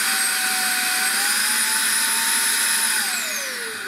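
A Makita 40V cordless dust blower, model AS001G, runs steadily on its lowest setting with a continuous whining, airy rush and a high motor tone that drops slightly as it winds down at the end.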